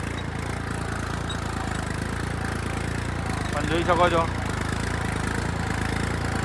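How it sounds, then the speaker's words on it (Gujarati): A tractor engine runs steadily at about 1200 RPM while pulling a heavy cultivator through a field, a constant low drone throughout with a person talking over it. "તો ટ્રેક્ટર માત્ર 1200 RPM પર ચાલે છે. એનો અવાજ સાંભળી શકો છો તમે."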